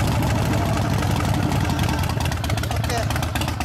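A 2013 Harley-Davidson Sportster XL1200V engine with Vance & Hines exhaust idles steadily and loudly up close, a low continuous rumble with voices talking over it.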